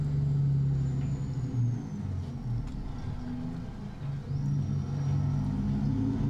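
A truck in American Truck Simulator, set on narrow winding roads near Anchor Point, Alaska, passes with a steady low engine rumble and road drone that swells and eases, loud and close throughout.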